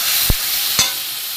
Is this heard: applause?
no